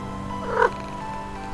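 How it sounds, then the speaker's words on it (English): A cat meows inside a horror video game, a single short mewing call standing out against a steady low background hum, with a faint blip near the end. "That's a cat."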